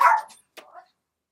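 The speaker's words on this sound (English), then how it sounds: "those are just my dogs" Two short barks from pet dogs, one louder burst then a second quick bark after a pause, close by and alone.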